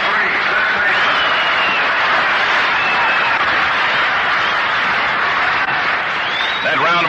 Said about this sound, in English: That round of applause greets the appearance at the plate for the Boston Braves in the last half of the second inning